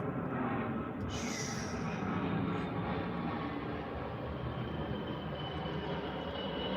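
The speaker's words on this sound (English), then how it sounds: "It's a nice little Learjet going right over us." A small Learjet passes overhead outdoors, a broad steady roar of jet noise that holds loud and constant throughout, with a faint brief whine near the start and no speech on top.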